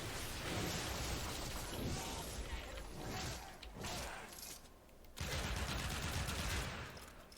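Pyrana Prime shotgun blasts pellets in the Warframe video game, dense rapid fire with crackling impacts in sustained loud bursts and a brief lull midway, no talking.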